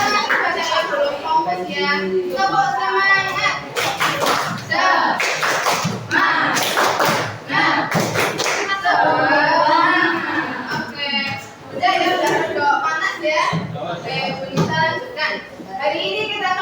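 Children in a classroom guidance lesson perform a rhythmic spirit clap, sharp patterned claps interleaved with loud chanted voices, close and energetic throughout.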